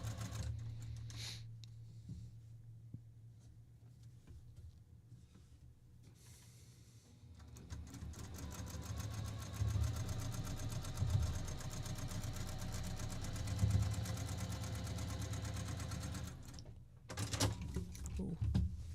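A quilting sewing machine used for large sewing jobs runs in a steady rapid whir that starts partway through, preceded by a few quiet clicks and handling noises, and stops near the end.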